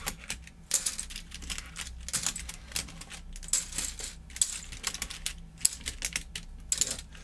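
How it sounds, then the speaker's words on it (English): Plastic keycaps clack and click as they are pried off a WYSE computer keyboard, one after another in an irregular series of sharp, close snaps with faint rattles between, no talking. "Removing the keycaps is going to be much easier now."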